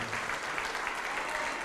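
Audience applause at a televised church program with Pastor Juanribe Pagliarini, a steady wash of many hands clapping that fills the whole short stretch at an even level, with no voices above it.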